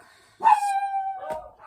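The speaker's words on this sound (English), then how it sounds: "Sorry for the dogs barking in the background." A single dog lets out a drawn-out, whining howl followed by a short yelp, fairly close and loud, with no talking.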